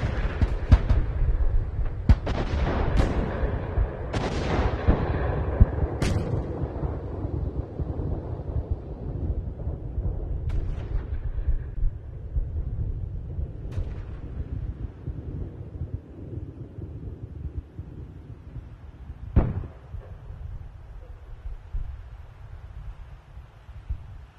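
Distant World War I front-line artillery fire near the Armistice of 1918: scattered sharp bangs and thuds in the first seconds, a few isolated blasts later, over a steady low rumble and wind noise.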